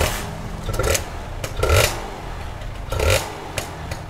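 A two-stroke Kawasaki motorcycle is being started in a workshop setting, with several separate attempts each giving a short burst of clattering engine noise that rises briefly, then falls back between tries.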